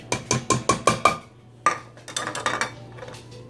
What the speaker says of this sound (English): Now I add some salsa